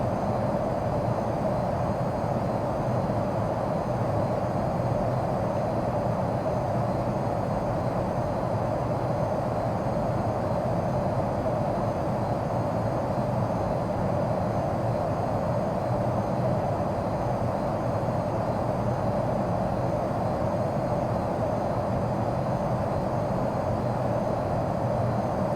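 Steady, loud aircraft engine drone in flight on a sortie out of Edwards AFB with throttle set, a continuous broadband roar heard from inside the cockpit with no breaks.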